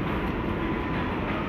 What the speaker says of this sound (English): This is a Manhattan bound 7th local train.